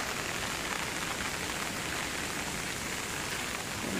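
Heavy rain pours steadily onto surfaces as dense, loud hiss-like drumming that continues without a break.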